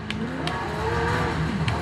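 A car drives in a video game, a continuous, fairly loud engine drone with rising revs and faint tire noise, carrying on steadily throughout.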